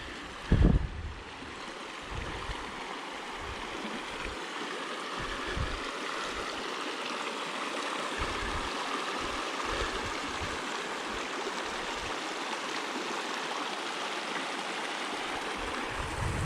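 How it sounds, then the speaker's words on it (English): A river crossing on a wet, grassy hiking trail, with water rushing in a steady broadband wash, close and continuous for the full length, with no talking. "we got another river crossing here."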